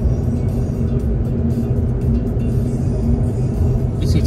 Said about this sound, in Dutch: We zitten in de auto hoor, inmiddels.